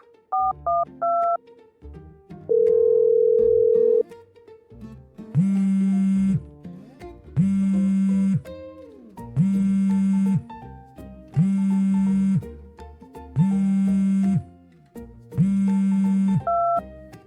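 A telephone call being placed: a few dialing tones, a long steady tone, then six evenly spaced ringback pulses in a loud, regular rhythm with no voices.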